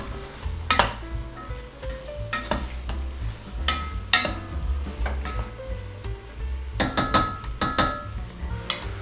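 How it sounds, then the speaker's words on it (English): Chopped carrot cubes are stirred in a cooking pot with a utensil, giving irregular clinks and scrapes against the metal over a faint sizzle, close by. "Mix them well."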